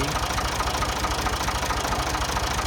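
Ford 2000 tractor engine running at a steady idle after sitting unused, a continuous close, loud low rumble with a fast regular knock throughout and no talking.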